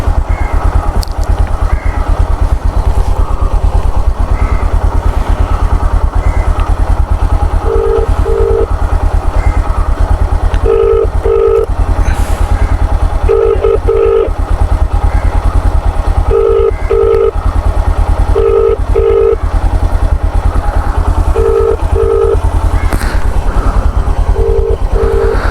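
A phone ringback tone sounds in repeated double beeps at a steady interval, unanswered, over the continuous loud rumble of a motorcycle engine during a Swiggy food delivery run.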